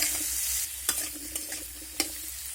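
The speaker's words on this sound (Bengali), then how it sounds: "এবার তেলের মধ্যে আলুগুলো দিয়ে আমি ভেজে নেব" Potatoes frying in oil with turmeric and a little salt, a soft steady sizzle with a few sharp spatula knocks as they are stirred, close and quiet, no speech.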